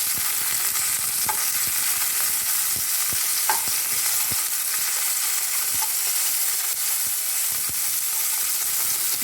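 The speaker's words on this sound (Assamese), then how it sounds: "এতিয়া সেইটো চাইডেও মই অকণ ভাজি ল'ম" Fish sizzles steadily in hot mustard oil in a pan, a dense continuous frying hiss broken by occasional faint taps and pops, with no talk.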